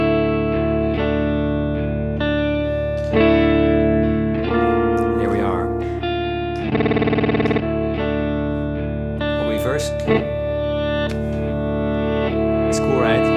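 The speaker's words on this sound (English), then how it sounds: "And the Blooper pedal is a looper, a creative looper." Electric guitar run through a Blooper creative looper pedal on a pedalboard, layered chords and notes with effects-laden, distorted and chorused tones, a sustained looped texture midway and sharp plucked attacks, loud and continuous.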